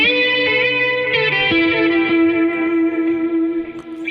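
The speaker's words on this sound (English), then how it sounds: "Let's hear what that chorus sounds like before that overdrive." An electric guitar runs through a chorus pedal placed before an overdrive, with analog delay. It sounds as a few sustained, shimmering chords and notes, thick with wobble and echoing tails, loud and alone.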